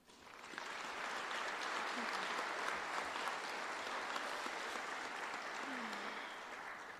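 A crowd at a high school graduation ceremony for the class of 2021 breaks into a sustained round of applause, swelling quickly and holding steady for several seconds before easing slightly at the end.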